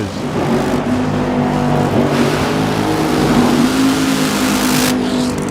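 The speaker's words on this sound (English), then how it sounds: "And Blake Alexander driving the Jim Headmobile over here in lane number 1." Funny car drag racer in lane one during final qualifying at ZMAX Dragway, engine revving loud and steady with rising and falling pitch, no talk.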